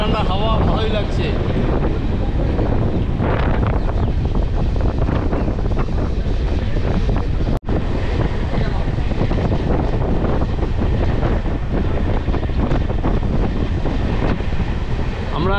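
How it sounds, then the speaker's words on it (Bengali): Steady cool wind roars past a moving passenger train on rain-wet tracks, a dense continuous rush and rumble with microphone buffeting heard close up throughout. "বেশ ঠান্ডা ঠান্ডা হাওয়া, ভালোই লাগছে।"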